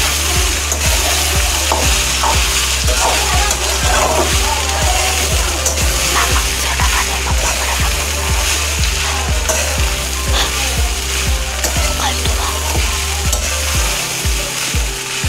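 Onion poha sizzles steadily in a kadhai while it is stirred, a continuous close frying hiss with scraping and clinking from the stirring and a low, pulsing hum running beneath.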